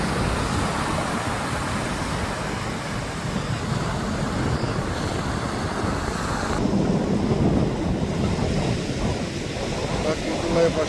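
Wind and breaking sea waves roll steadily on Strand beach, a continuous broadband roar with gusty buffeting on the microphone, while a voice talks over it.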